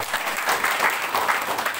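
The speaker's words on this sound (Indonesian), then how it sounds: "Beri tepuk tangan terbaik buat Tuhan." A church congregation at an open-air revival service in Amabi Oefeto Timur claps together in steady, dense applause throughout, a loud, even wash of hands with no voices standing out.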